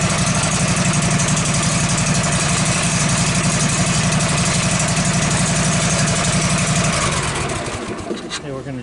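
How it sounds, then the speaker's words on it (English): A 19 horsepower Kohler engine runs on an LT15 Woodmizer sawmill, a loud steady close chugging idle that drops off and winds down near the end. "This is a 19 horsepower Kohler. I like this motor. It runs really good."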